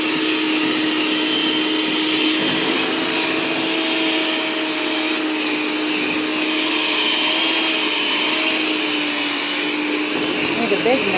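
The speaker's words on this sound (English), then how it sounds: "Need a big mixer." A big electric mixer beats apple cake batter with cinnamon in a home kitchen, a loud, even motor drone running unbroken from start to finish.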